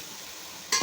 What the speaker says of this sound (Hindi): और फिर हम इसको अच्छे तरीके से भून लेंगे।